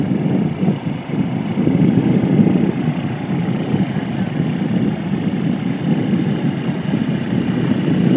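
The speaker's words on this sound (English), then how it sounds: "That plane looks like so much fun." A propeller aircraft engine drones steadily nearby, a throbbing low roar that holds for several seconds without talk.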